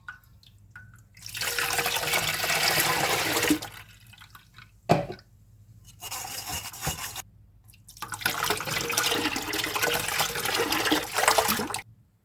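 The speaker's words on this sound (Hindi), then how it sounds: "अब हम इसके ऊपर भी थोड़ा थोड़ा पानी डाल के इसको अच्छे से छान लेंगे।" Water pours steadily through a strainer over lassi in two long bursts, with a brief clatter in between, fairly close and loud with no talking.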